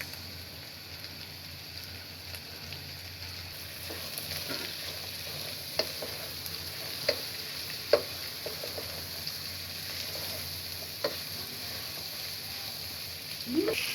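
Onions, cabbage and chopped chilies frying for fried rice, a steady hissing sizzle heard close, broken by occasional clicks and clatters of stirring spread unevenly over the stretch, with no talk.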